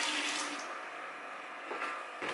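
Hot water pours steadily over gorse flowers in a vessel for homemade country wine, a continuous close splashing rush with slight surges near the end, no voices.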